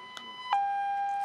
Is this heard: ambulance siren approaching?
yes